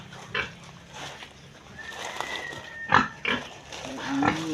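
Pig in a farm pen during cleaning, with a few short grunts and squeals near the mic amid shuffling and scraping noises.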